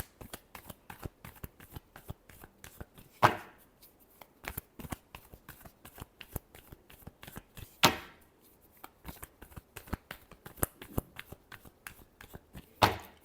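Tarot cards being shuffled by hand, crisp riffling clicks and slaps in irregular bursts with a few louder snaps, close and fairly quiet, no talk.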